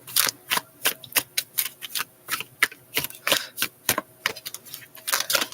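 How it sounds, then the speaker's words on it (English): Tarot cards shuffled by hand, a steady series of crisp, close slaps and flicks repeating in an uneven rhythm, loud and without talk. "Let me shuffle this one more time"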